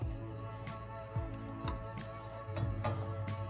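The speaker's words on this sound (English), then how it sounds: "pour one tin of evaporated milk" A tin of evaporated milk is poured into a pot with thick, wet glugging drips and squishing, close and quiet, several short splashes without speech.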